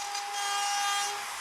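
Steady, hissing abrasive sandpaper rubbing against hinoki cypress wood, a continuous scratchy friction with a faint tonal whine, close and uninterrupted.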